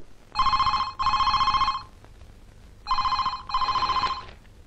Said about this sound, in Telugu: ఆ ఫోన్ ఎత్తరా.